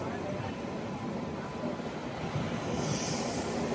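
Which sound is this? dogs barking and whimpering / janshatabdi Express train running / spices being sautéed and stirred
janshatabdi Express train running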